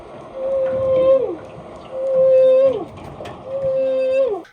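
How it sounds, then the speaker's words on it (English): Whale song picked up by an underwater microphone in Alaska: three long, tonal moaning calls, each holding steady and then bending downward, loud and clear with quiet gaps between. "You can hear the whale song underneath there."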